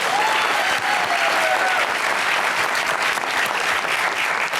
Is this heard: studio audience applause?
yes